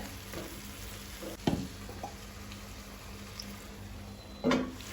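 Squid pieces with chili and pepper powder cook in a covered pan for a Goan chilly fry, giving a faint, steady low sizzle broken by a couple of soft clinks.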